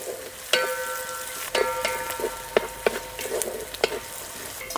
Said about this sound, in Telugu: ఈ ఉల్లిపాయలు బాగా బ్రౌన్ అవ్వాలి.